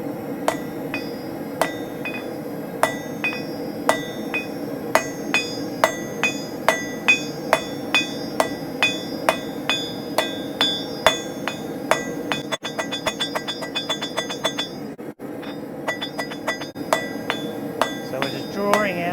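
A blacksmith hammers steel to draw out a taper on the end of a bar. Sharp ringing hammer blows land in a steady rhythm about once a second, with quicker light taps and clinks between them, close up, with faint talk.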